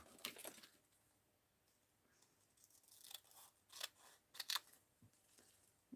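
Scissors cut through paper or craft material in a few quiet, separate snips and crunches, close by and soft, with no talk.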